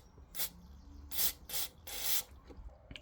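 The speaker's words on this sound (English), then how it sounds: "spraying through with the carb cleaner." Carb cleaner spraying in several short hissing bursts through the carburettor of a strimmer on a workbench, close and fairly quiet, with brief pauses between sprays.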